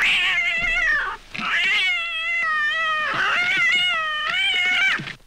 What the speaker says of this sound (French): c'est quoi ce chat de l'enfer?